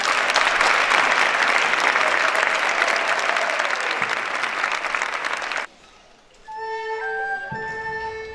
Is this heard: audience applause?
yes